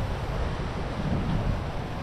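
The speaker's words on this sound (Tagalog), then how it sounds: "Mao ni kaimtang sa dagat." Sea waves and wind at the shore during a typhoon, a dense, steady roar of wind buffeting the microphone over churning surf, loud and continuous with no voices.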